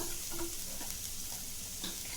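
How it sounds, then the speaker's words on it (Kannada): Spices with turmeric powder frying in oil in a pan for an ivy gourd fry, a steady soft sizzle with faint stirring scrapes and a small clink at the end. "ಇದೆಲ್ಲವನ್ನು ಫ್ರೈ ಮಾಡ್ಕೋಬೇಕು ಸ್ವಲ್ಪ."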